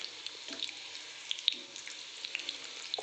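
Soya chunks deep frying in hot oil, giving a quiet, steady sizzle with scattered small pops and crackles over about three seconds.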